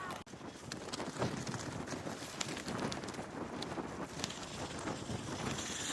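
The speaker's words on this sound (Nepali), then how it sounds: "हावा डेन्जर हावा चल्छ है मुस्ताङमा" A strong cold wind blows steadily in Mustang, Nepal, roaring and buffeting the microphone for the whole stretch, with scattered faint knocks and rustles in the gusts and no talk.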